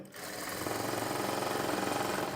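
Sewing machine stitching cloth piping, a fast, steady mechanical whir with rapid rhythmic needle clatter, close and continuous after a brief start.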